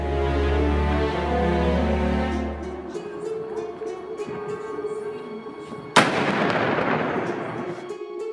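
A noon cannon firing in Russia cracks out as one sudden loud boom after a stretch of background hum and scattered sounds, followed by a long rumbling, reverberating tail.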